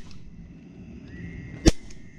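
A single sharp gunshot fired at a snake outdoors cracks out loud and close after a stretch of quiet ambient noise, with no talking.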